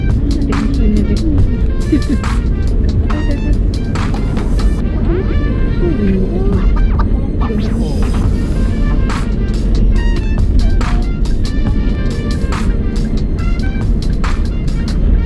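Busy street traffic with angkot minibuses during Idul Fitri in Cikarang, Bekasi: continuous close engine rumble and passing vehicles, with repeated high clicking and horn-like tones, while people talk over it.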